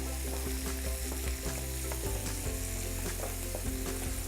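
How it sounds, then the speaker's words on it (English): Bacon and black pepper frying in a pan for fried rice, a steady dense sizzle with crackling pops and occasional stirring clatter, close and continuous with no voices. "So I put a little bit of bacon in there for a little bit of spice."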